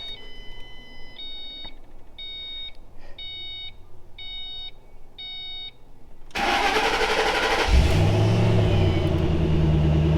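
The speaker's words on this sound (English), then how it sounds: "I'm gonna see if it fires up, see if we got her fixed" A 2005 Ford Mustang with a newly replaced fuel pump: a series of electronic dash chimes, then the starter cranks and the engine catches into a loud, steady close idle rumble.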